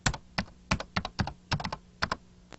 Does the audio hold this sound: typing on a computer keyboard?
yes